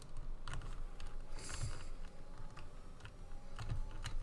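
Computer keyboard keys tapped repeatedly while playing an F1 racing game, in short irregular bursts of clicks over steady background game noise.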